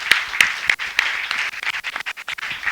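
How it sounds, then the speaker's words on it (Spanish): A church congregation begins clapping during a Spanish-language service, sparse individual hand claps at first, then quicker, thicker clapping from several people, close and fairly loud. "Alguien puede dar un aplauso a Dios en esta mañana."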